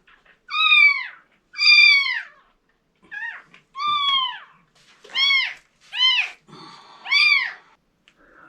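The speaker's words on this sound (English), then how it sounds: "It's gonna meow." A sick kitten meows seven times in close succession, each cry loud and near with a drawn-out, slightly strained tone, separated by short silences.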